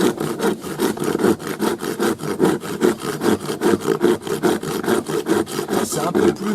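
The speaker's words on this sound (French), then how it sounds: "Pour la scie, on va tester là." Hand saw cutting through wood outdoors, a steady back-and-forth rasp with about twenty strokes in quick, even rhythm, close and fairly loud with no talking.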